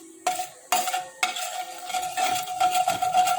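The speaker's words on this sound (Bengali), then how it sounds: "এখন আমি জিরা দিয়ে দেব ফোড়নে, ঠিক আছে। জিরা দেব, জিরাটা একটু ভালো ভালো হয়ে যাক।" Cumin seeds tempering in hot oil in a pan, with several sharp metallic scrapes and clinks of a spoon stirring over a steady sizzle, up close and with no talk.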